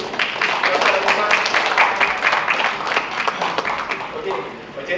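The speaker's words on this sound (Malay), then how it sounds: "So beri tepukan kepada diri sendiri untuk dapat." A seminar audience at a cyber security knowledge-sharing event claps steadily for several seconds, a dense, fairly loud round of applause with speech mixed in.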